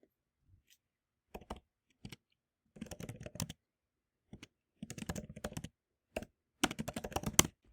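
Computer keyboard keys clatter in short irregular bursts of quick typing, close and clear against near silence, with pauses between bursts.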